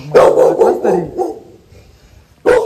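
A dog barks loudly and close by in a short run of rapid barks, falls quiet, then lets out one more sharp bark at the end.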